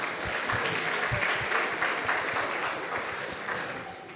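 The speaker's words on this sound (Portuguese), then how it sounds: "Uma salva de palmas" A church congregation applauds during a sermon, a moderately loud burst of many hands clapping with distinct claps audible, holding steady for about four seconds and tapering slightly at the end.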